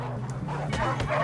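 Dog yips and bow-wow barks from a video game where a dog gets kicked, fairly loud and close, mixed with excited talk and a steady low game hum.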